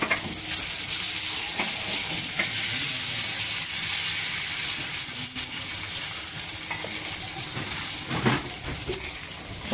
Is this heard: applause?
no